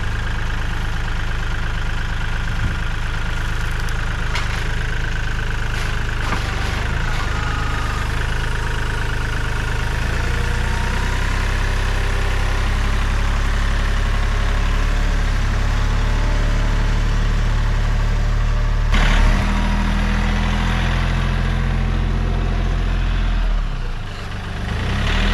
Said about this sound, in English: Let's grab the tractor, take this tote up to the roadside stand